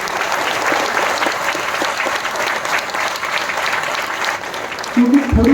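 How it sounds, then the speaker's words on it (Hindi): Audience applause at a birth anniversary event for a Bhante in Nanded, India: sustained dense clapping from a large crowd, steady and loud throughout, with a voice rising near the end. "तो इनके लिए पहले से ताली बजनी चाहिए।"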